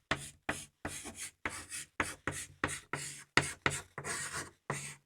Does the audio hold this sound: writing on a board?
yes